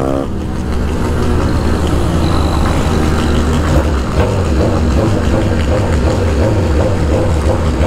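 A BMW S1000RR motorcycle engine rumbles at idle in a crowded street gathering, a loud, steady, throbbing low drone with slight wavering pulses in its tone.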